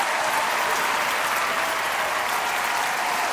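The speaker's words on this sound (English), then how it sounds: "give Lechero a round of applause" Steady applause from a crowd of people, a dense, even clatter of clapping heard on a Marvel Rivals gaming livestream, with no voice over it.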